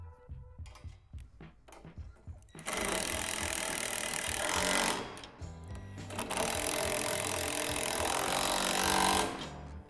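Nuts are tightened onto the bolts of a Lifetime basketball backboard, with two long runs of loud, close mechanical whirring separated by a short pause, after some lighter clanks at the start.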